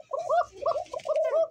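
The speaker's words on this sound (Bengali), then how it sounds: "কুচুর কুচুর করে ডাকে রে ভাই।" A pigeon coos close by in a soft, throaty rolling call, three or four warbling phrases in quick succession, clear and alone.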